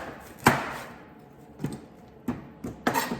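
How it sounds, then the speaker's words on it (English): A knife trimming the ends off apples on a board for an apple crumble: four or five separate sharp cuts and taps, close and spaced out, with quiet room tone between them. "cut those ends off"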